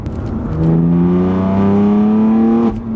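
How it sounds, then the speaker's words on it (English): A BMW M3 F81 Touring engine revs up loudly with its exhaust opened, holding a rising, throaty roar for a couple of seconds before dropping back toward idle. "let's open up the exhaust"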